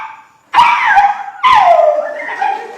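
A human voice imitates a dog, producing two loud, close, drawn-out bark-howls that slide downward in pitch, separated by a short pause.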